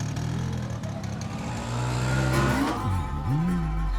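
Auto rickshaw engine idling, then revving as it drives off, with a steady mid-pitched rattle rising in loudness.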